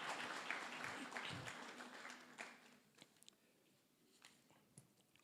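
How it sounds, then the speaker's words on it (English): Audience applause at a lecture, a dense crowd clapping that fills the first few seconds and then thins out to a few scattered, fading claps. "Can we give her a big round of applause?"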